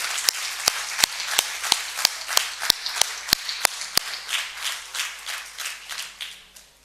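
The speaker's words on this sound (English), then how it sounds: "Guys, we're forgetting to clap for these lovely sessions." An audience at a brokers' panel discussion claps after the sessions: sharp, distinct claps at first, spaced at a regular beat, then softening into looser, scattered clapping that fades out.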